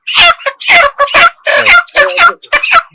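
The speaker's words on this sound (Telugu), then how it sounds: "అసలు ఒక కోడిని తీసి నా చేతికి ఇవ్వ" A farm chicken lifted into someone's hands squawks and clucks loudly in short, repeated bursts with brief gaps between them, close by.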